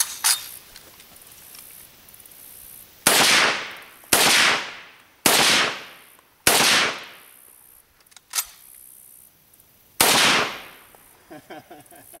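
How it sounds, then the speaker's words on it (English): An M1 carbine fired outdoors, about seven sharp loud shots spaced roughly a second apart, each with a short echoing decay. "Now let's get the M1 carbine out and see what she can do."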